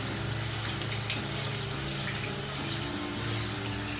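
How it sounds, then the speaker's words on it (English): Running tap water rinses a Schick Hydro Silk TrimStyle razor, a steady close hiss and splash of flowing water with a low pump-like hum underneath and no talk. "So we can do it with a bit of running water and just get everything."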